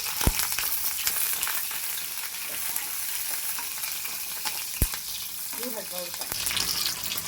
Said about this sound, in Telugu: ఇందులోనే పచ్చిమిర్చి కూడా వేసుకోవాలి